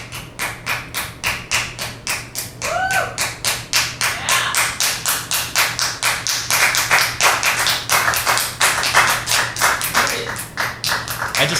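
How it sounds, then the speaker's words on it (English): An audience claps in a steady, rhythmic unison beat that continues without a break and stays loud and close, with a constant low hum underneath. "but they kept on clapping"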